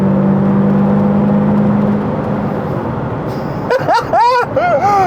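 A 2024-era Audi TTS Mk2 in sport mode, first a steady engine hum, then a near, loud rising rev through the range with sharp pitch sweeps and a short lift between pulls.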